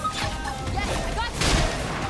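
Gunfire in Xenoblade Chronicles X Remastered, a run of sharp, crackling shots in quick succession that swells louder toward the end, mixed with game music and effects.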